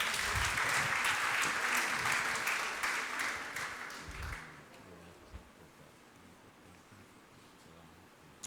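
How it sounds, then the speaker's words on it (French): A church congregation bursts into loud, dense applause to acclaim the Lord, a sustained wash of clapping that swells and then fades out halfway through, leaving a quiet room with only a couple of faint knocks. "Est-ce que quelqu'un peut acclamer le Seigneur?"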